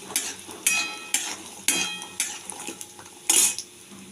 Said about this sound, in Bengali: বড়িটাকে খুব সুন্দর করে একটু ভেজে নেব